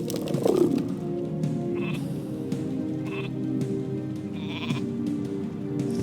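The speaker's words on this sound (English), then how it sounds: "It's a sheep." A sheep in Warcraft III Reforged bleats once, close and clear at the start, over a steady low game background with a few soft sound effects after it.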